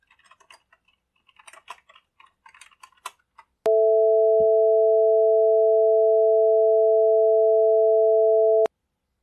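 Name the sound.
two combined sine tones of different pitch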